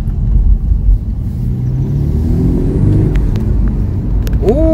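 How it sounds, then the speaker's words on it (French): A turbocharged car is driven, giving a loud, close, steady engine rumble with a faint rising whistle near the end, no voices. "ce petit bruit de turbo"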